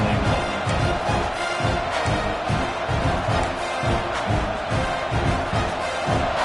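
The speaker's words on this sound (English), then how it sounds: "the crowd really making some noise now, trying to help out this defense" A large football stadium crowd roars steadily, loud and continuous, with rhythmic surging swells of cheering and chanting.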